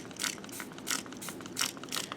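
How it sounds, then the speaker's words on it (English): A spray bottle of degreaser mists onto greasy parts of a 2000 Crown Victoria, five short hissing squirts spaced roughly evenly, each with a faint trigger click, fairly quiet and close. "I just wish I had a better spray bottle."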